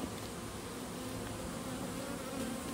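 Honeybees buzzing around a cathedral top-bar hive, a dense continuous hum of many insects close by, steady and even with no voices.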